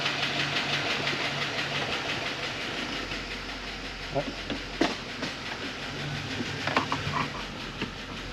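A 2006 Chevy Express 2500 van with a suspected transmission fault, driving with a steady engine drone and road rumble, with scattered knocks and rattles, close and continuous, and no talking.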